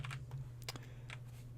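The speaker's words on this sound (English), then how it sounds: "then I'm going to start typing the name of the file" Quick keystrokes on a computer keyboard, a short burst of clicks faint and close, alone over a low steady hum.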